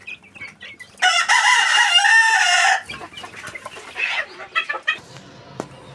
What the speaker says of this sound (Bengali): আর এই যে এটা হচ্ছে আমাদের দেশি কক বা ফার্মের অথবা ব্রয়লার মুরগি